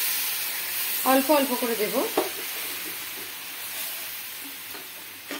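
Water poured into besan roasting over a low gas flame for halwa, giving a steady hiss and sizzle alongside stirring. A voice speaks briefly over it.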